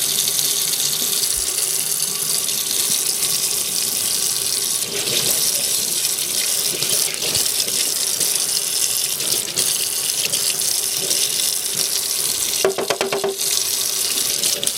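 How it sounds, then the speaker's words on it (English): Hot water gushes steadily from a tap while trimmer parts are washed with Dawn dish soap, a loud, continuous splashing rush with small surges and no talking. "bit of a wash here and some hot water."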